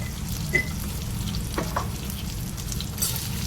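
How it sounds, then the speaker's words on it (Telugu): Green chillies frying in hot oil for tomato pachadi, a steady close crackling sizzle with occasional faint stirring clinks, continuous and even, with no speech. "ఇవి కొద్దిసేపు ఫ్రై చేసుకున్నాం అన్నీ మంచిగా ఫ్రై అయిపోయింది"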